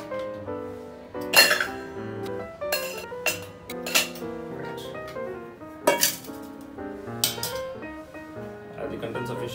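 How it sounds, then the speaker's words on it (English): Ice cubes clink and rattle into a metal cocktail shaker tin while an espresso martini is made, giving a series of bright, close clinks and knocks in irregular bursts without talk. "take some ice,"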